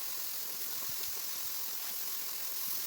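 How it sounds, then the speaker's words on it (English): An electric paint spray gun blows a steady, loud hiss and whir during a kitchen cabinet makeover, running unbroken throughout with no voices. "make sure you have an electric sprayer if you're gonna do this job"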